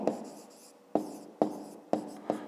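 Pen or pencil writing on paper at a desk, close and distinct, with a few separate scratchy strokes spaced through a short stretch.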